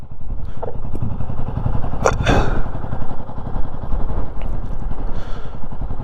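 Motorcycles stopped together on a mountain road in Spiti idle with a steady, close, low engine rumble throughout, broken by a couple of brief clanks.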